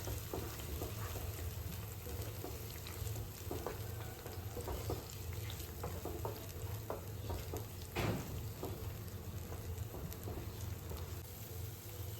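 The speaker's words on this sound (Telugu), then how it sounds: "మనం మిక్సీ పట్టుకుంది మంచిగా వేయించుకోవాలి" Masala paste frying in oil in a pan for paneer masala, a steady soft sizzle and crackle close up with occasional stirring scrapes, no talking.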